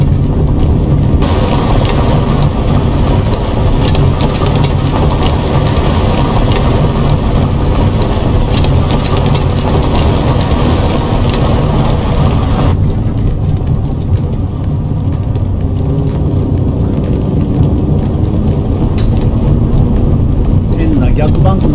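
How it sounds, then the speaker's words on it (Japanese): Heavy truck tires crunch steadily over loose gravel beneath a deep engine rumble, a continuous gritty rattle that stays loud throughout, in the video game Euro Truck Simulator 2. "砂利道の音がすごいですよね"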